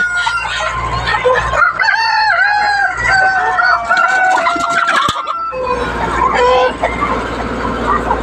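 A poultry farm keeping heavy roosters of seven to ten kilograms and laying hens is filled with loud, repeated rooster crowing and hen clucking close by, while people talk in the background.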